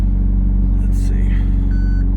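A McLaren 750S backing up, its engine a steady close low rumble throughout, with a short electronic reversing beep near the end.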